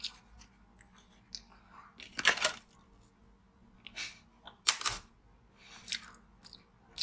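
Ice cubes being chewed in a close-up eating session, giving sharp crunching bursts at about two and five seconds, with smaller crackles and bites scattered between them and no talking.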